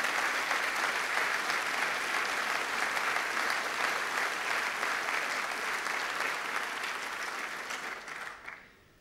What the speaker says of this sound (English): Will you just give yourselves a round of applause for making sure that these people are here today?